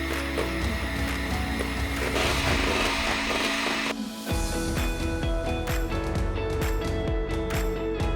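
Electric mixer whipping egg whites while sugar is added little by little, a loud continuous whirring drone with rattling beater clicks and a brief dip partway through, heard close and without talking.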